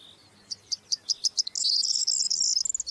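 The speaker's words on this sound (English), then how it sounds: "A corn bunting loudly claiming its territory." A corn bunting sings to claim territory in wild Greek countryside, a run of sharp accelerating ticks that breaks into a jangling, glassy trill, loud and close in an otherwise quiet setting.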